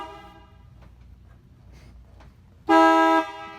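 A 1954 Corvette horn gives one loud, sustained honk of about half a second, bright and brassy, after a quiet stretch of faint background noise.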